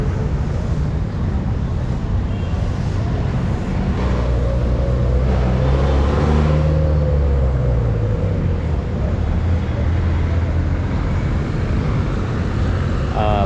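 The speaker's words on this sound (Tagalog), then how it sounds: "Nakaabang na itong truck ng Manila DRMMO." A heavy garbage truck engine rumbles low and steady throughout in Divisoria, Manila, with a faint voice briefly rising midway over the continuous drone.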